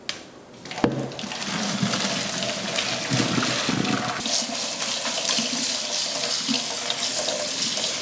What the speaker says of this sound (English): Now we'll blanch our spinach.